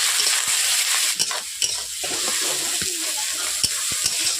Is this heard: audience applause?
no